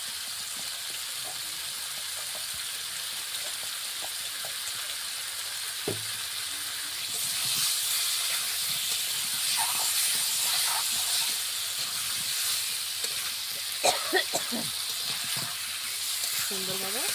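Spices and elephant foot yam sizzle and fry in a pan for a fish curry, a steady hiss that rises louder midway, with occasional clinks of stirring against the pan.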